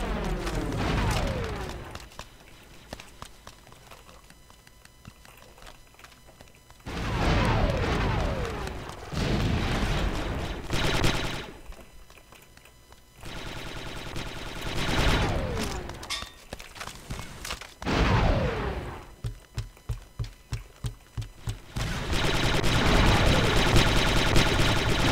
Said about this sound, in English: That was a lot of nades.